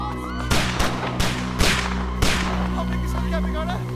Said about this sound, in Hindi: लगता है कोई गोली चला रहा है हम पे।